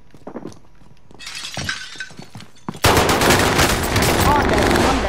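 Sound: gunshots in the video game Call of Duty: Warzone

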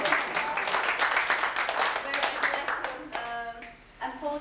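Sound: audience applause

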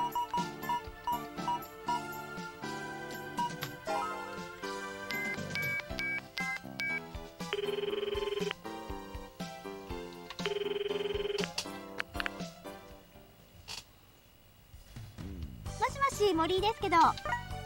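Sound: telephone ringing during a call in the video game Sentimental Graffiti

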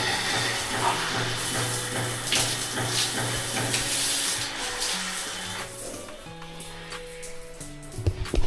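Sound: shower water running

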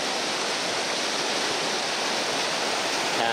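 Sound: rushing water of Toboggan Creek on the Berg Lake trail

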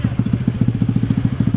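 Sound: Honda Pop 132i four-valve motorcycle engine

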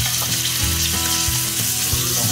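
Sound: meat stir-frying in oil in a frying pan

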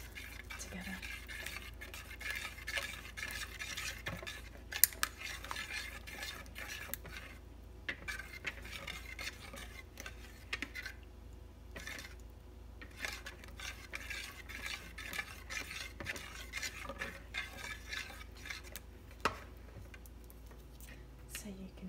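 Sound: stirring egg, oil and water mixture

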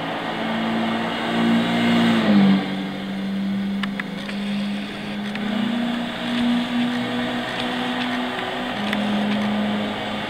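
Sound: Scion FR-S 2.0 engine revving in Gran Turismo 6 video game

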